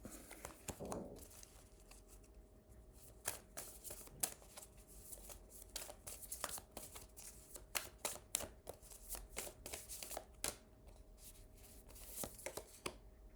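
Tarot cards being shuffled by hand, close and fairly quiet, a long run of quick papery riffles, slides and taps in irregular bursts.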